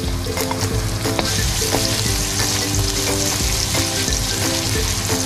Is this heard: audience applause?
no